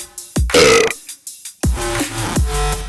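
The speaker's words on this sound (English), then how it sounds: "So, where do we include the burp?" A burp sample used in music production, a series of loud, close belching bursts with short gaps, some lower and drawn out, standing alone without talk.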